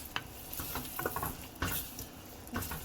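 A spoon scrapes and clatters against a pot of ugba sauce seasoned with stock cube and salt, several quiet, close knocks over a faint simmering hiss, with no talking.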